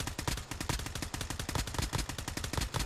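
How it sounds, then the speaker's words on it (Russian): Rapid automatic rifle fire from Call of Duty Mobile on the Alcatraz map, a dense, steady stream of loud, close gunshots pounding evenly throughout with no pauses. "Блин, потрясающий автомат. Он без отдачи бьет."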